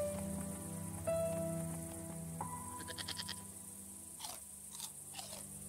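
Goat bleating in the video game Broken Sword 5, a few wavering bleats in the second half over a steady game music and ambience bed, with earlier chewing-like clicks.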